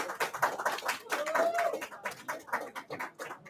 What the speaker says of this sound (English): Clap for Suleiman.